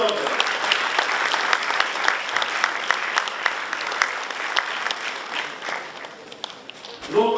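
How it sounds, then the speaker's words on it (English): At a university conference, an audience gives sustained applause, a steady mass of overlapping claps that tapers off, with a voice starting up right at the end. "Give a huge applause for all of them."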